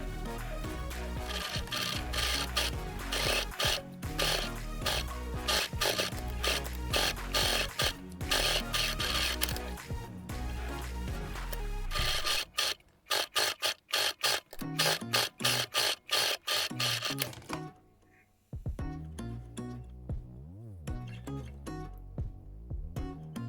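A sewing machine runs steadily for several seconds, stitching along the edges of a fabric face mask made from cooling towel. It then shifts to short, stuttering bursts and stops, leaving a few soft handling sounds.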